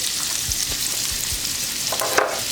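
Chopped shallots sizzle steadily in olive oil and butter in a pan at the start of a risotto, a constant bright crackle with a few soft stirring thumps underneath and no talking.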